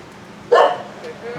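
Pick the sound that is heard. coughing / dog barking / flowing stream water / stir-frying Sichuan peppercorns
dog barking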